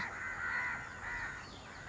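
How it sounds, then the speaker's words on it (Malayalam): A crow caws a few times from a short distance, harsh calls that rise and fall against quiet background noise. "കാക്ക കരയുണ്ട്, ഇന്ന് വിരുന്നേരുണ്ട് കേട്ടാ."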